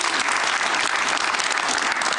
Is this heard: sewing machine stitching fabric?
no